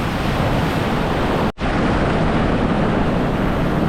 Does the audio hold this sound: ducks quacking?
no